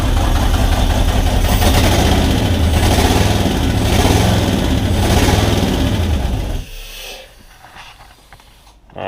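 A turbocharged V8 swapped into a Datsun 720 truck runs loud and steady at idle with a rumbling throb, then cuts off abruptly, leaving a quieter tail before a brief restart burst.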